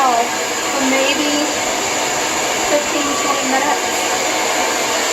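A Lange Soleil hair dryer blows with a steady, loud whooshing hiss throughout, while a person talks briefly over the constant airflow.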